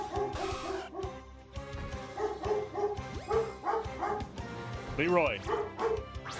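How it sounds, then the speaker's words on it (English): A pet dog barks in repeated sharp bursts with yips and a whimpering whine mixed in, close by, under ongoing talk from a man at home. "One sec, my dog is barking."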